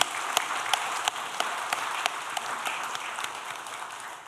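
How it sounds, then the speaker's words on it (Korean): Church congregation applauding in encouragement during a Sunday worship service: a steady wash of many hands clapping at moderate level, with a few sharper individual claps standing out, and no talk. "우리 같이 한번 격려의 박수 한번 부탁드립니다."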